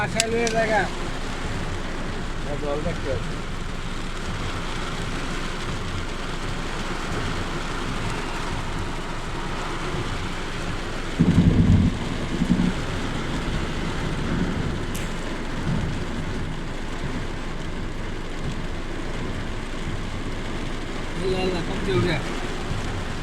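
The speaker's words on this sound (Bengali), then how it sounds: "বৃষ্টির মাত্রা এত পরিমাণ, গাড়ি সাইড করে রেখে বয়ে রয়েছি।" Heavy rain drumming steadily on a parked car in Mecca, with a loud thunder rumble midway and a constant dense roar throughout.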